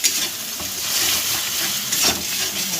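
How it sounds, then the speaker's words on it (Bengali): Three eggs fry in a pan with little oil and are stirred while cooking for chowmein, giving a loud, close, continuous sizzle with scraping stir strokes throughout. "ডিম 3টে দিয়ে ভালো করে ভেজে করে নাড়া দিয়ে নিই।"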